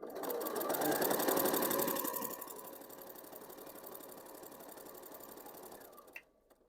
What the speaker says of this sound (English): we're just going to stitch along that line there with a 1/4" seam.